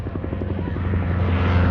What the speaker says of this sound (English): you know that iconic sound Huey makes